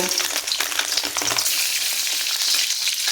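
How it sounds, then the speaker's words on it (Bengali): Eggs sizzling and crackling in hot oil in a pan, with a loud, steady frying hiss and occasional stirring sounds and no voices. "তেলটা গরম হয়ে গেছে এরপর এখানে ডিমগুলো দিয়ে ডিমগুলোকে আমি সুন্দর করে ডিমগুলোকে সুন্দর করে আমি ভেজে নেব"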